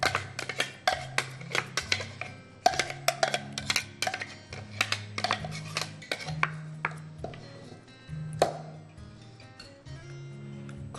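A spoon clinks and scrapes steadily against a bowl while potatoes and chicken are tossed into a cold salad, with light ticking taps repeating close by and no talking.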